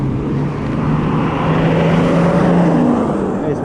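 A car passes close by on the road, a loud, swelling tire-and-engine roar over steady traffic noise, building to a peak and easing slightly toward the end.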